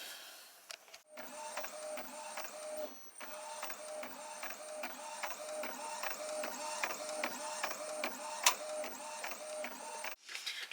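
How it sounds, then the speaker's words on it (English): Desktop printer feeding an A4 sheet of sticker paper, a steady mechanical whir with a rapid, regular back-and-forth print-head pulse throughout, close and moderately quiet, with a short pause near the start. "it's going to print out onto an A4 sheet of sticker paper"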